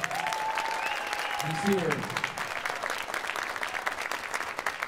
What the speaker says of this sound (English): Would you please give a warm round of applause for our guest artist, Kris Johnson.